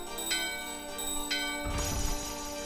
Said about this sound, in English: This holy bell.